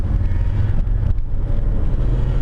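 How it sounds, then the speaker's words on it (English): A vehicle approaches on a country road, a steady low rumble of engine and tyre noise with wind buffeting, heard from inside a moving car. "There's a vehicle approaching"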